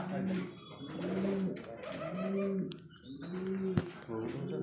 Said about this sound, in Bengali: এই যে দেখেন এটা হচ্ছে নর কবুতর আর এটা হচ্ছে মাদি